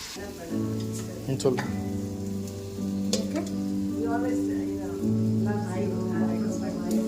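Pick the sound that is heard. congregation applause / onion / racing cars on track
onion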